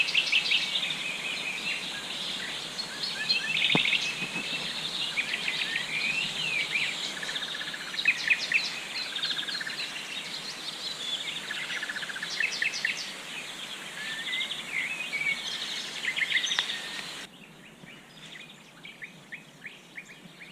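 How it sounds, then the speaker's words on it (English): Many birds chirp and trill steadily by a river in San Adrián, Spain, their calls overlapping over a constant soft wash of flowing water, with the birdsong thinning and fading near the end. "Beautiful birds."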